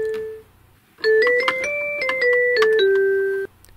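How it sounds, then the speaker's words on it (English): Bell-like tones from a Casio toy keyboard play a short stepwise melody of about eight notes, bright and sustained, following a single held note and a brief pause. "Let's try out the bells instrument."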